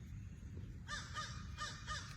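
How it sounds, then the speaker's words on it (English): Several loud caws from a crow outdoors in the morning, coming in quick repeated calls after a second of quiet background. "I hear old Crow this morning. He's making his noise, isn't he?"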